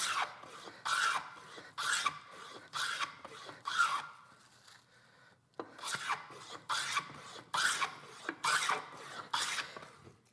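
Hand plane shaving wood while a stick chair is shaped, repeated rasping strokes about once per second in a steady rhythm, close and fairly loud, with a short pause midway and no talk.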